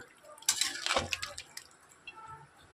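Water poured into chicken curry in a pan, a sudden splashing burst followed by bubbling, dripping liquid sounds that fade to a quiet simmer, close and moderately loud.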